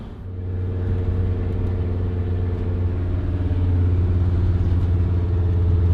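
A Sprinter van's engine strains to climb a hill with the pedal floored, a loud, steady low drone that swells slightly as it labors, heard from inside the cab.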